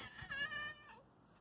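A cat meows once outdoors, a short rising-falling call close to the listener, followed by quiet.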